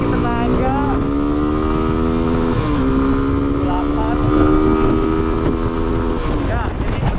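A Suzuki V-Strom 250 SX motorcycle rides on a road, its engine droning steadily with a rising and falling pitch through gear changes, mixed with wind rush over the microphone.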